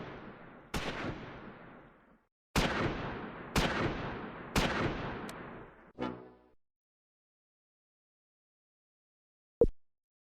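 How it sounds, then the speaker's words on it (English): Medium machine gun fire in the WWII strategy game Close Combat 4, several loud separate bursts with booming echoing tails, a short rattling volley, then silence and one final sharp crack. "The medium machine gun moves up to get a better shot."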